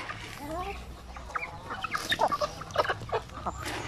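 Basilan native chickens cluck in short, scattered bursts at close range, with a rooster-like call early on and a low background hum throughout.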